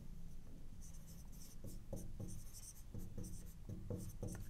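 Marker or chalk writing on a board during an economics lecture on inflation, a steady run of short scratchy strokes in uneven bursts over a constant room hiss, close and fairly quiet, with no talk.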